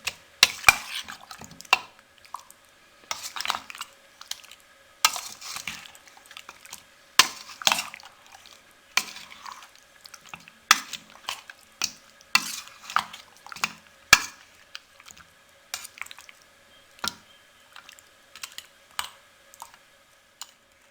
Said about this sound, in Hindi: अब इसको हम अच्छे से मिक्स कर लेंगे।